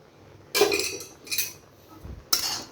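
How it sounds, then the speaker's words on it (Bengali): Jute leaves are stirred in a pan with a metal spatula, giving three separate bursts of scraping and clinking with short pauses between them. No one speaks. "এভাবে কিন্তু আস্তে আস্তে আমি নেড়ে নেবো।"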